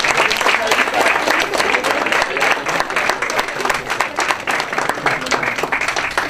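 A seated audience at a public event gives a sustained round of applause: dense, steady clapping at an even level throughout, with no voices standing out.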